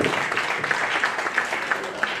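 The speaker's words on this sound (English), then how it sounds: "A round of applause." Applause from a media-training audience after a councillor's presentation, a steady wash of many hands clapping at moderate distance, with faint voices underneath.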